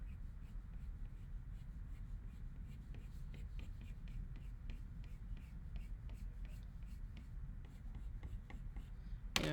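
Pencil strokes on paper while drawing fur, a series of soft, quick scratchy strokes in steady rhythm over a low hum, close and quiet.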